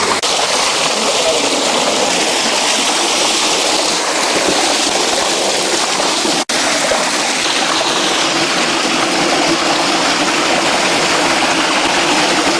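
Water gushes steadily from a village pump set, a continuous broadband rush close by that runs without pause throughout.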